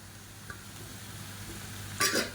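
Chicken sukka fries in a pan with curry leaves and slit green chilies. It gives a faint, low sizzle that flares into a brief louder hiss near the end.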